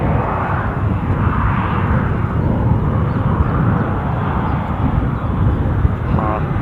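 A KLM airliner roars at Edinburgh International Airport, a loud, steady jet rumble filling the whole stretch with broadband noise, with a voice briefly audible near the end.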